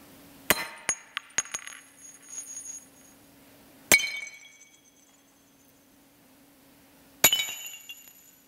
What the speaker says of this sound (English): when an object breaks, it produces lots of little rigid body sound models if it's brittle